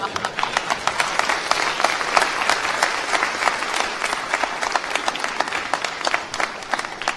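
Audience applause at an address by the ITU Secretary-General, loud and steady rapid clapping from a sizeable crowd that continues without a break, with individual sharp claps standing out.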